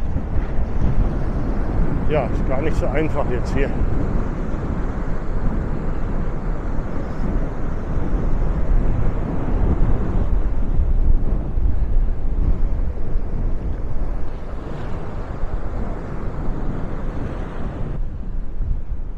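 Strong wind buffeting the microphone on the beach at Maspalomas, Gran Canaria, a continuous roaring rush throughout, with someone briefly talking early on.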